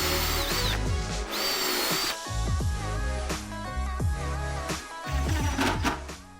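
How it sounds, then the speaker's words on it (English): A power drill whines while pre-drilling, countersinking and driving a screw into the wood of a planter box, the motor spinning up and down in several separate bursts. "I'm gonna pre-drill it and countersink it, and then drive the screw in"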